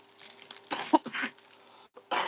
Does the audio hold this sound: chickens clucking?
no